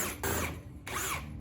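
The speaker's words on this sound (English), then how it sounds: "And I'm gonna use a drill to do it faster." A cordless drill set to its lowest torque drives screws out of an Alesis QS8 keyboard during a key repair, giving two close whirring bursts with a short pause between them, fairly quiet.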